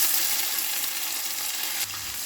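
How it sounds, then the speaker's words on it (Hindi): Onions with mustard seeds and green chillies frying in hot mustard oil, a steady loud sizzle with faint stirring that drops a little toward the end. "प्याज को फ्राई करते हुए 1 से 2 मिनट हो गया है।"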